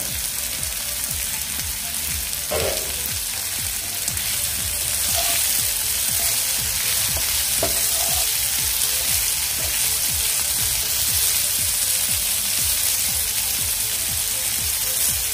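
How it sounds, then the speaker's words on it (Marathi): Bitter gourd curry steaming under a lid in a pan, a continuous even sizzle and hiss with a few faint knocks, close and steady, no speech. "आता आपण यावर झाकण ठेवून 7 ते 8 मिनिटं हे वाफेवर शिजून घेऊया"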